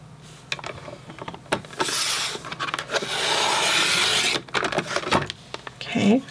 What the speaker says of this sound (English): we're going to punch each side. And then trim it just the same way.